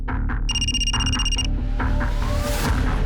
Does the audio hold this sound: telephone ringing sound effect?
yes